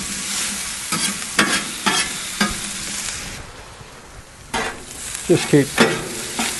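Onions sizzle and fry on a hot barbecue plate, with bursts of stirring and scraping; a voice speaks briefly over the steady crackle.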